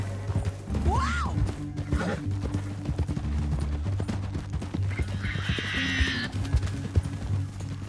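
Horses in Red Dead Redemption 2 out in a canyon: a clear whinny and a second neigh over soft clip-clopping hooves and light gear noises, with a faint hiss later.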